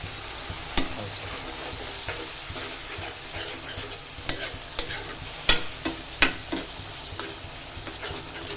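Fish spice curry cooks in a pan over a raised flame, a steady sizzle and fry with a spoon stirring and scraping through it, producing scattered clinks and scrapes against the pan. No one speaks.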